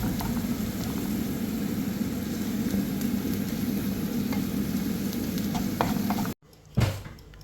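Chicken sautéing in a pan with garam masala and Maggi cube masala while being stirred, a steady close sizzle with scraping stirs throughout, cutting off near the end before a brief clatter.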